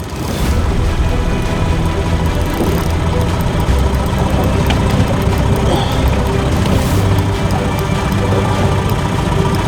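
A fishing boat motor idles steadily throughout on a Saskatchewan lake, a continuous low rumble with constant loudness and no talking.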